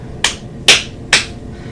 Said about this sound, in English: So clap 3 times